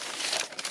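Sheet of paper from a craft supply box crinkling and rustling close up in a short, dense burst of crisp crackles.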